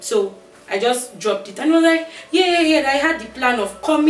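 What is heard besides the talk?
None of the usual background noises is heard.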